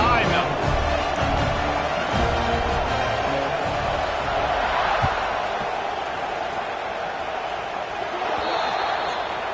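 Football stadium crowd at a Florida State at Florida game roaring and cheering before an overtime kickoff, a dense, steady wall of noise that holds loud throughout.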